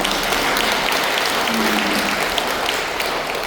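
Encouraging applause from an audience welcoming newly appointed officers at a Catholic parish training session in Hyehwa-dong church, a loud, dense, continuous wash of clapping that fills the room for several seconds.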